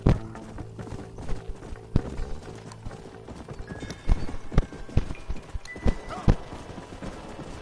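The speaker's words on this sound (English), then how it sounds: "El caballo es precioso, el caballo que estoy llevando." Horse hooves in Red Dead Redemption, a close, clattering clip-clop rhythm at a steady riding gait with occasional sharper hoof strikes and a brief whinny under ambient game sound.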